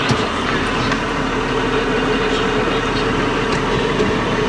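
A 1996 AGCO White 6144 tractor engine runs steadily in low gear, shifted on its power shift transmission. The drone stays loud and close, with even mechanical rattle throughout and no talk.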